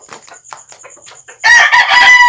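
A Kelso gamefowl rooster on a gamefarm makes soft clucks, then lets out one loud, close crow.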